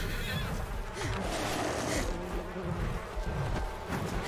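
A horse-like creature neighs in The Chant, a drawn-out whinny set against a dense, steady bed of game ambience and rumble, fairly close and moderately loud throughout.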